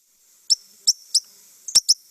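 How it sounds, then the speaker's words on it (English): White-crowned sparrow calls from a played recording: five sharp, bright chirps, spaced irregularly, the fourth with a brief click, clear against a silent background. "So these are white-crowned sparrows calling."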